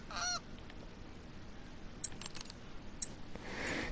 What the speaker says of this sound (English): we're gonna blast some snow geese.